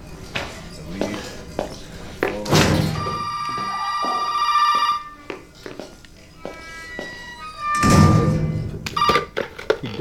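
A telephone bell rings in the video game Resident Evil 7, with sharp repeated rings among thumps and scattered game noises, and a voice talks briefly.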